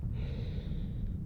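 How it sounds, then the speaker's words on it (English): Heavy, labored breathing from a hiker on a trail, close and fairly quiet, a brief run of rough breaths with some airy hiss. "sorry for my heavy breathing"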